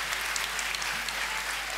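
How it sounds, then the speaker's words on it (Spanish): An audience applauds in a short, even burst of dense clapping, steady and fairly faint, with no break. "Yo creo que se merece un fuerte aplauso esto."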